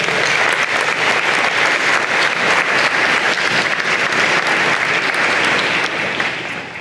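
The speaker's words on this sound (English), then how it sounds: "Can we give those students a big round of applause?" Loud, sustained applause from a convocation crowd honoring engineering and computer science students, dense steady clapping for about seven seconds before tapering slightly at the end.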